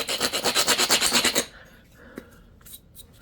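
A flint arrowhead edge is ground down with quick rhythmic rasping strokes, about a dozen evenly spaced scrapes close up, then it stops and a few faint taps follow.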